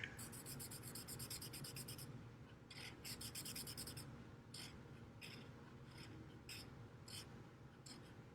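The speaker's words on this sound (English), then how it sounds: "so I'm going to draw that on there" A marker squeaks and rubs across paper while drawing a red hospital symbol for a homemade craft town, in short scratchy strokes with brief pauses, close and quiet.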